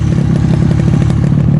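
A snowmobile driven through snow to check traps, heard as a steady close mid-pitched engine drone with rapid rhythmic pulsing and light clatter, alone with no voices.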